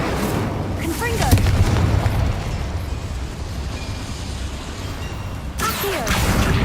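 Magical spell blasts from combat in the Hogwarts Legacy video game, a run of loud booming bursts near the start and again at the end, with a sustained roaring wash in between.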